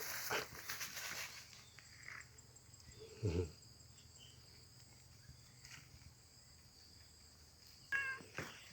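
Cats out walking in a vegetable garden at a Buddhist temple give a few brief, faint meows, one in the middle and another near the end, over a quiet backdrop of chirping crickets and soft outdoor rustle.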